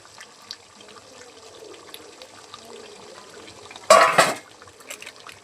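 Fried potatoes tumble into meat cooking in a pot over a clay stove, a single brief clatter and splash after a stretch of quiet kitchen background.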